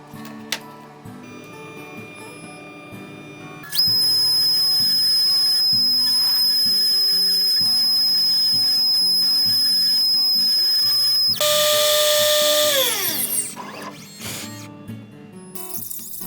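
An industrial CNC machine cutting timber: a loud, steady high-pitched whine holds for several seconds, shifts to a harsher, noisier tone, then winds down into quieter workshop clatter.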